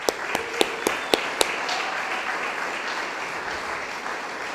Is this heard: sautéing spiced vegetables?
no